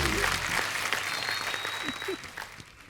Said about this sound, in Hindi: जोरदार तालियां एक बार राज सर और जय मैम के लिए।